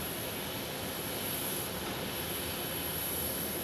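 Broadband roar of a Swearingen Metroliner turboprop at an airport, a steady, loud hiss and rumble with a high whine on top, continuous and without talk.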